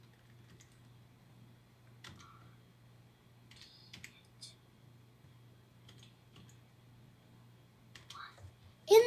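Sparse clicks of typing on a computer keyboard while entering a date field in Microsoft Access, quiet and intermittent over a low steady hum.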